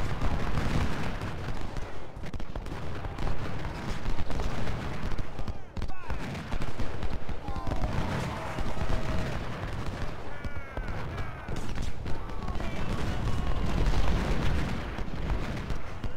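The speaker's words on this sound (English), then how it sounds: "So these two guns are going to shoot into him" Cannon fire in the Civil War strategy game Ultimate General: Civil War at Parker's Crossroads: dense rumbling artillery booms and crackling musketry fill the scene continuously, with a voice talking over the battle.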